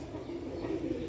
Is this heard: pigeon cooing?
yes